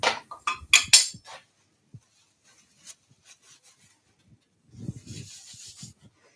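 Wax rubbed onto a turned wooden potpourri pot on a lathe, heard as a few close scratchy rubbing bursts at first, then quiet with faint taps, and another soft rubbing stretch near the end.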